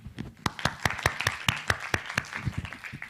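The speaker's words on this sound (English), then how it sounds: "Let's give a round of applause for Lucas and Joanna." A small audience claps at a Vietnam Young Lions 2017 marketers-category brief day, with scattered and uneven individual claps that come through clearly over a low room murmur.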